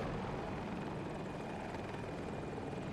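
A KA-520 Super Hokum attack helicopter in a video game on the Hourglass map gives off a steady, unbroken rotor and engine roar that holds an even, fairly quiet level throughout, with no voices over it.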